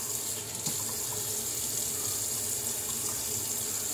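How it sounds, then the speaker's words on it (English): Water splashed and sprinkled onto a wet shaving brush at a sink, a steady close trickling hiss with a faint knock near the start and no talking. "I'm going to sprinkle some water on it"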